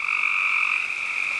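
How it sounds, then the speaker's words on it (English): A dense chorus of frogs croaking on a rainy June night in the Red River Gorge, a steady loud trilling drone from many calls overlapping without pause and without talking. "And tonight, some happy frogs."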